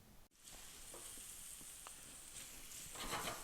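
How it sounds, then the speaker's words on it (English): Garlic, onion and wiri peppers browning in a pan for a Lebanese ejjeh omelette give a steady close sizzle, with faint stirring clicks scattered through and a brief louder stir near the end. "I'm browning off my garlic, onion,"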